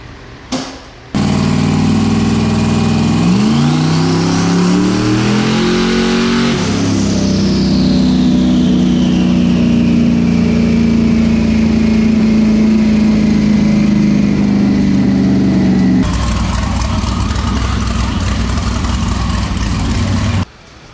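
A 1300 hp LS-swapped twin-turbo BMW E90 roars close and very loud as its engine is revved up and held at high revs with a rising whistle, then settles and cuts off abruptly.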